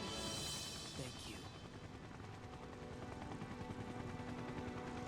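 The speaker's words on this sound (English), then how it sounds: "Can you hear it over the helicopter blades?" Helicopter blades thump steadily in Final Fantasy VII Rebirth, a continuous rhythmic chop filling the scene under game combat noise, loud and sustained throughout.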